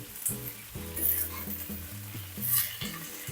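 Food sizzles softly in a frying pan while being stirred for a long bean stir-fry, with faint scraping strokes over a low background tone and a couple of brief louder sizzle bursts.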